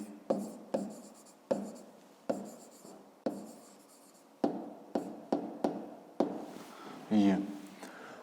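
Pen tapping and scratching numbers onto paper during a fifth-grade math exercise, a series of sharp irregular taps and short strokes, close and fairly loud, with a voice talking intermittently.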